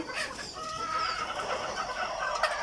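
Egyptian Fayoumi chickens cluck inside their coop, a fairly faint, continuous chorus of overlapping calls from several birds at close to middle distance.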